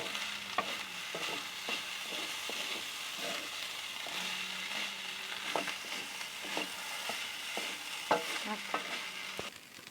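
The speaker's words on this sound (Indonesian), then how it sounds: "Aduk hingga kecap tercampur dengan nasi." Cooked rice stirred with sweet soy sauce (kecap) in a hot pan makes an even, continuous sizzle. Regular scrapes and taps of the spatula run through it, close and steady, with no voices.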